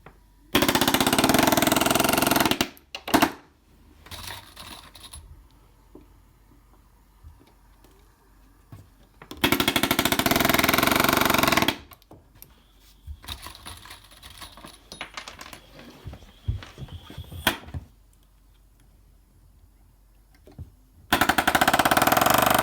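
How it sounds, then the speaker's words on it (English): A palm nailer drives nails into fire blocking inside a tight wall cavity, heard as loud, rapid hammering bursts of about two seconds each, separated by quieter handling sounds and a few scattered knocks. "And well, I have a palm nailer."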